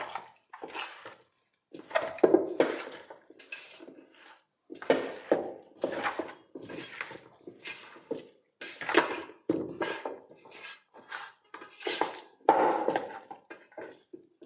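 Chicken with lemon juice being mixed in a pot for dum biryani, uneven close scraping and clinking strokes in irregular bursts with short quiet gaps.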